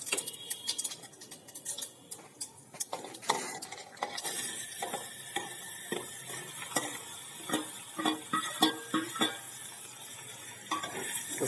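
Mustard seeds, whole cumin and asafoetida tempering in hot oil in a pan for ivy gourd and potato chips, light sizzling under frequent metallic clinks and scrapes of a spoon against the cookware.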